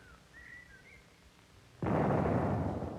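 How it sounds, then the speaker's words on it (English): A single siege cannon fires from an Allied siege line, a sudden loud broadband boom at about 1.8 seconds that holds as a dense rumbling roar after a quiet lead-in with faint high whistles. "Washington himself fired the first cannon"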